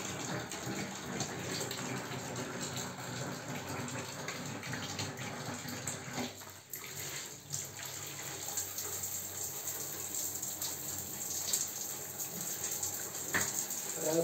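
Hot water gushes steadily from a tap fed by a solar water heater with a Wilo booster pump, a continuous broadband rush that holds throughout, with a brief dip midway.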